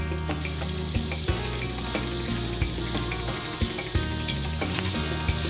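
Soaked Kashmiri red chillies dropped into a hot pan for restaurant-style paneer butter masala, giving a steady close sizzle and frying crackle with a few louder pops, alone without talk.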